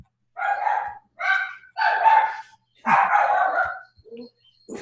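A dog barks in several loud, close bursts, some long and clustered, with short gaps between them and a faint yip near the end.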